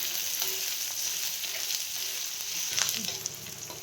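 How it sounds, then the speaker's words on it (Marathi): Chopped onion sautés in hot oil in a pan for spicy moong-dal pithla, giving a soft, steady sizzle throughout with a brief stirring scrape near the end. "कांदा छान एकदम तेलामध्ये आपल्याला परतून घ्यायचा आहे."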